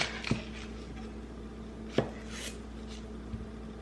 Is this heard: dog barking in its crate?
no